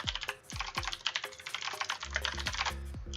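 Rapid, loud clacking of a mechanical computer keyboard, keys struck in quick irregular bursts with a few heavier thumps, close up and continuous.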